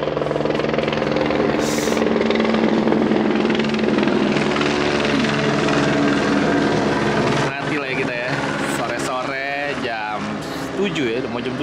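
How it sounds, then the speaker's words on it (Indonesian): Helicopter passing overhead on a cool morning in Los Angeles, a loud, steady rotor and engine drone that holds for most of the stretch while people talk quietly beneath it. "Ada helikopter lewat,"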